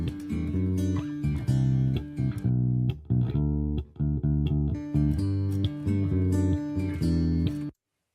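A bass guitar plays a downward walking line in a rock track, steady repeated notes stepping down in a groove, prominent and fairly loud with a few short gaps before stopping abruptly.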